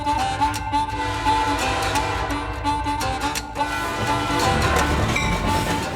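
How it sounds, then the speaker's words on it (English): Reno Fun Train running along the track, a loud continuous rolling din with sustained horn-like tones layered over rhythmic clatter, close and dense throughout. "This may look like an ordinary train, but it doesn't sound like an ordinary train."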